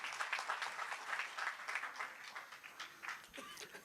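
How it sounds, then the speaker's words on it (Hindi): An audience claps in an auditorium at a poetry event, a fairly faint, steady patter of applause with a slight pulsing rhythm that continues throughout. "एक बार जोरदार ताली बजाइए आप"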